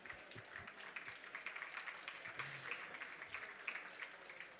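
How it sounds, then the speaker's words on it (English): Conference audience applauding after a short talk on adding interactive music to a game, a steady, fairly faint wash of clapping lasting several seconds. "I think that's a round of applause"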